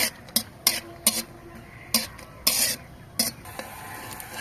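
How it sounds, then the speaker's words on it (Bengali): Peanuts frying in a pan, stirred now and then, give a string of separate close scraping and clattering bursts over a low sizzle. "বাদামগুলো ভাজা হয়ে গেছে, এবার আমি উঠিয়ে নিচ্ছি।"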